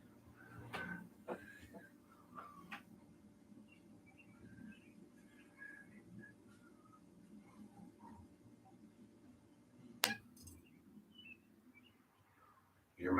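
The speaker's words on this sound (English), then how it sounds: "Hear my birds out there." Outdoor birds chirp and call in short scattered bursts, faint and somewhat distant, with a few sharper clicks and knocks nearby in an otherwise quiet room.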